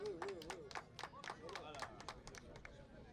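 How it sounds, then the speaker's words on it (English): A crowd applauds at a beach sambo medal ceremony at the 2019 African championships in Morocco, with steady, dense clapping running throughout under an announcer's voice. "Applaudissez. Applaudissez."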